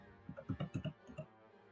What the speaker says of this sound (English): Flint, your typing is coming through there.